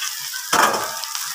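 Chow mein noodles are added to a hot pan of fried chicken, setting off a short loud burst of sizzling that fades into a quieter simmer.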